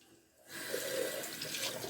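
Hands being rinsed under a running tap during a skincare routine: the water starts after a quiet half second, then flows in a steady, close splashing rush that continues to the end.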